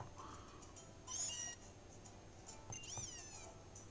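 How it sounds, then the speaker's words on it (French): Cats meowing in the Pokémon Moon video game, two bright rising meows about a second and a half apart over steady game background music, with no talk. "Ça fait deux chats dans la maison."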